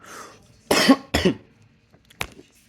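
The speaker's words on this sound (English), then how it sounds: "I coughed, so I paused." Two sharp coughs close together, followed by a smaller throat-clearing sound after a short pause; nearby and fairly loud.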